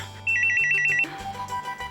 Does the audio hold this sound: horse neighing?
no